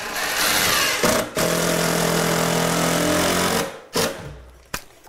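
A cordless power drill spins steadily and loudly up close while boring a hole through a stud during kitchen cabinet installation, with a brief pause near the start, then winds down and gives two short bursts at the end.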